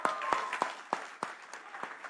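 Scattered hand claps from a small crowd at an awards press conference, sharp, evenly spaced claps at moderate distance, fairly faint, with no voices.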